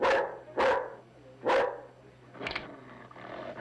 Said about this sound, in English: Pull your dog off right now.